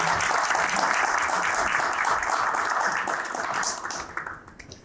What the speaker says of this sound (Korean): 여러분 큰 박수로 모시겠습니다.